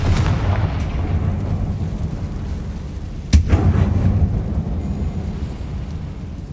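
Fire spell explosions in Hogwarts Legacy, a deep rumbling boom base with one sharp close blast mid-clip, surrounded by low game ambience and no talk.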